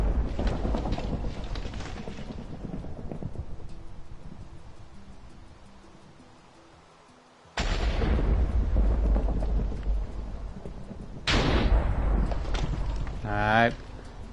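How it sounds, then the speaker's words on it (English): Thunder in the Minecraft video game: two loud, sudden broadband rumbling cracks arrive midway and later, each sustained for a couple of seconds, with a player talking over the game noise between them. "Stop shooting thunder."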